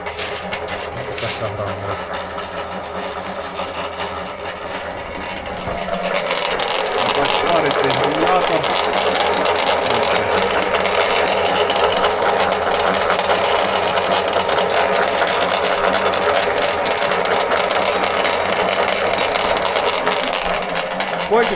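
A feed pellet mill pressing pellets for fattening calves runs loud and steady, a continuous mechanical drone with a grinding edge that swells to full volume after a few seconds and holds without a break. No one speaks.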